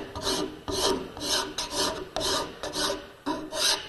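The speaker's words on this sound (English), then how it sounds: "Make sure you are not beveling with your file, that you're keeping it nice and flat." A hand file rasps across a wooden backscratcher in steady back-and-forth strokes, about seven or eight close, even scrapes with no talking.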